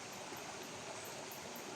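A stream flows along a trail, its water making a continuous, even hiss and rush that sounds close and steady throughout.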